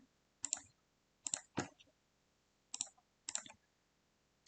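A computer mouse clicks while astrology software is in use, giving five or six sharp, close, quiet clicks spaced irregularly over a few seconds.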